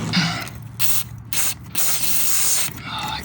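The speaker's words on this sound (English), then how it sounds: "Here I'm hoping that the hydraulic pressure of half a can of WD-40 is going to release the clip." An aerosol can of WD-40 sprays onto a seized clip during a Porsche restoration. It gives loud, close hissing bursts broken by short pauses, with no voices over it.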